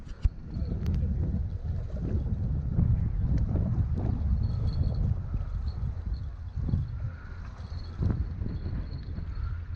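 Strong wind of over 25 mph buffets a fishing boat during a downpour, a constant low roaring rush with microphone gusts and a few sharp knocks, loud and unbroken for the whole stretch.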